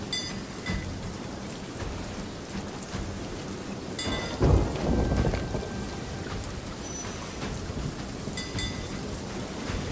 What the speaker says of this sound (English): You sure you're not just hearing the storm?